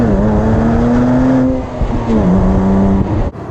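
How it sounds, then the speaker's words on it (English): A Porsche Boxster S flat-six engine drones loud and close with the roof down, holding a steady, throaty tone that briefly drops in pitch midway before settling again. "you can drop the hood and just really listen to that flat 6 engine"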